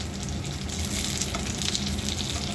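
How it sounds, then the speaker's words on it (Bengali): Meat tikki cutlets fry in oil with a dense, steady crackling sizzle, close and continuous, with faint occasional clinks and no talking. "আর আরেকদিকে মাংসের টিকিয়া ভাজা হচ্ছে রুটির সাথে খাওয়ার জন্য"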